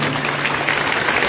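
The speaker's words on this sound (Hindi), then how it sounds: "जोरदार ताली बजाएं" Enthusiastic applause from a crowd at an Independence Day event at a madrasa in Lohta, Varanasi, a dense, steady clapping that stays loud throughout.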